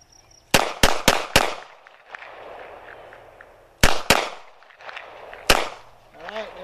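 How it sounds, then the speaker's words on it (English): A Taurus 617 revolver fires seven sharp, loud shots on a range: four quick cracks, then two more after a pause, and a final single shot, with insects buzzing faintly in the background. "We fired 4 quick, a couple of more, and then I took one last one to make sure we were empty"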